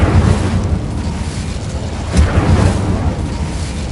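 Incendio fire spell cast in the Hogwarts Legacy game: a loud, continuous roaring whoosh of flame with a sharp burst near the middle, rumbling heavily throughout with no talking.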